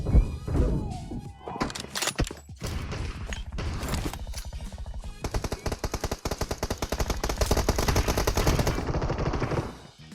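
Video game gunfire from an M24-style shooter, a few heavy single shots and thuds followed by a long rapid burst of automatic fire, loud and close.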